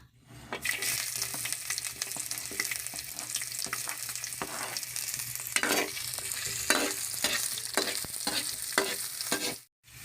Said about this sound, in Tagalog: Magisa na tayo, ilagay na natin ang luya.